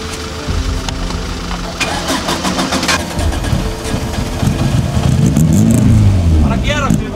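A Toyota Starlet engine runs and is revved, its droning note rising and falling in a few sweeping revs toward the end, loud and close, with voices talking over it.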